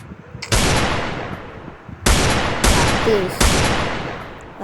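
Gunfire in Free Fire during beginner shooting practice: four loud, sharp blasts, each with a long fading tail, the last three coming in quick succession.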